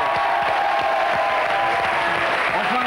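A studio audience applauds a guest on a French television show, with dense, steady clapping throughout and a murmur of crowd voices beneath.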